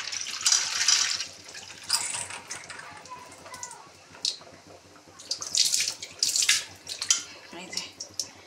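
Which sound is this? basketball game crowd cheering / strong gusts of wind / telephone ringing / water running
water running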